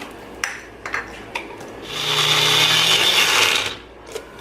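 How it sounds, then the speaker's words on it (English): A Magic Bullet blender grinds about three-quarters of a cup of cashews into flour: a loud, steady whirring grind of roughly two seconds, with a few sharp clicks and knocks before and after. "I am going to put the cashews in a magic bullet so that it turns into a flour"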